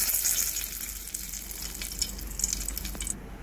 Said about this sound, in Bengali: তেলটা গরম হয়ে আসলে আমি উপর থেকে ঢেলে নিলাম।